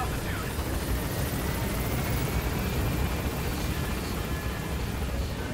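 A helicopter in the video game Metal Gear Solid V: The Phantom Pain gives a constant, dense rotor and engine roar that holds steady throughout with no break.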